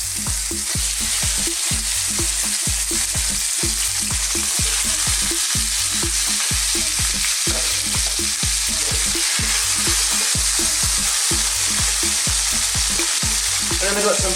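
Bite-sized beef chunks fry in hot oil infused with spices for an Indian beef and tomato curry, a loud, continuous sizzle with a regular scraping stir-beat running through it, close up and without speech.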